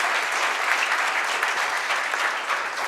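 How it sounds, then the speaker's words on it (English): Audience at a talent show audition applauding a 15-year-old's recitation, a dense, sustained burst of many hands clapping at close range without pause. "Round of applause."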